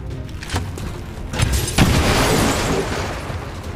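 A grenade explosion in the XCOM 2 video game lands as a single heavy boom about halfway in, rising out of busy battle noise and then trailing off in a rumbling decay.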